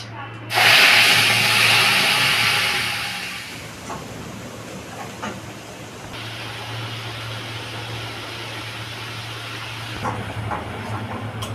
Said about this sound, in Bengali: গোটা জিরে আর গোটা শুকনো লঙ্কা, এটা আমি ফোড়ন দিচ্ছি।